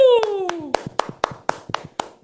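A crowd claps steadily in quick even beats after a falling cheer, the hands sharp and close.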